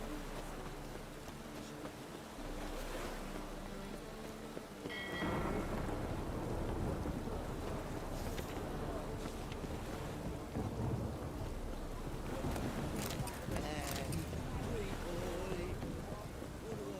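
Heavy rain pours alongside rumbling thunder in the video game The Witcher 3, starting quieter and swelling into a loud, continuous downpour with crackling bursts and occasional voices.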